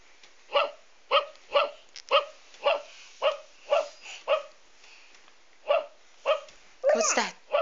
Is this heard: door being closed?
no